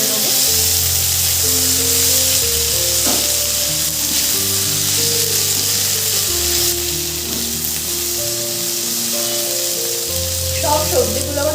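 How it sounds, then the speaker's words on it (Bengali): Chopped tomato sizzles and fries in a pan for an aloo potol vegetable curry, a steady loud hiss with occasional stirring scrapes while background music plays throughout. "টমেটোটাকেও একটু ভেজে নেবো।"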